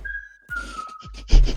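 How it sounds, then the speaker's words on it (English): A steady whistled tone held alone for about a second over voice chat, then continuing faintly under a burst of chatter and noise. "now I hear fucking whistling"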